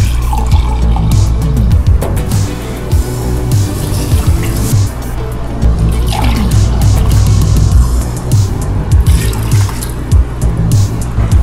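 Apple juice pours into a pot while rice cakes are being made, a continuous close liquid stream with gurgling and splashing that runs without a break, loud and unaccompanied by talk.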